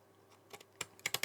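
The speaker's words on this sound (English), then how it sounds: "I'm cutting down, putting my points of the scissors along the edge" Scissors snip through card paper in a series of faint, crisp clicks that grow quicker and a little louder toward the end, with no voice over them.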